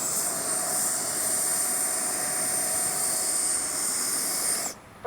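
A Freewing Avanti S RC model jet turbine whining with a steady high-pitched hiss and roar, continuous and close, then cutting off abruptly near the end.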